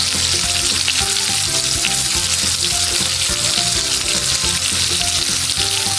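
Steak sizzles loudly in a pan with garlic and rosemary, a steady dense frying hiss with faint spoon or pan clinks, no voices.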